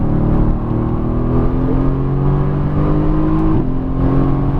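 A 2017 Mercedes AMG GTS engine drones loudly on a race track, a sustained close-up engine note with pitch that shifts slightly as the throttle changes.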